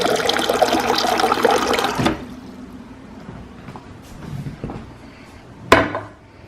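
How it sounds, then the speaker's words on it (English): Filtered water running and splashing into a container for a morning drink, loud for about two seconds, then stopping, followed by faint clinks and a short sharp knock near the end. "then you fill it up with filtered water"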